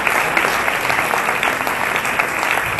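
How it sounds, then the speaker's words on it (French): Steady, dense audience applause fills a conference hall, many hands clapping at an even level from start to finish with no pause. "Merci, on peut applaudir."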